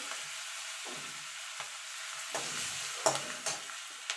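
Chicken stew being stirred in a pan with chopped garlic, giving a steady soft sizzle with several scraping stirs, clearer ones near the end, heard up close with no talking.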